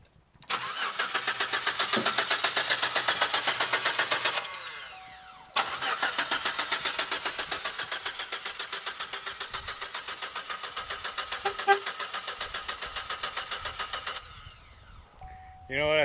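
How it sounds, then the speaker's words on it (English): A Chevrolet Equinox that may be leaking fuel cranks in two long stretches of fast, rhythmic starter churning, separated by a short pause. At the very end the engine briefly catches and revs. Faint voices are heard in the background. "that car starts, but it barely moves"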